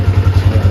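A new motorcycle engine runs close and loud while being ridden off, with a quick, even pulsing throb.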